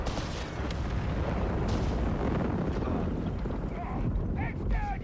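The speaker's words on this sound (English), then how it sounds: "So much artillery all over the place here." Artillery shells exploding across a coastal battlefield in the strategy game Company of Heroes 3, a dense continuous rumble of blasts and booms, with brief tonal game sounds near the end.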